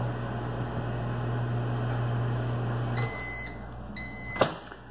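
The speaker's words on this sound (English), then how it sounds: "Put it in our lovely microwave." A microwave oven runs with a steady low hum while heating a cookies and cream Pop-Tart on a plate, then stops about three seconds in, followed by a few electronic beeps and a brief clunk of the door.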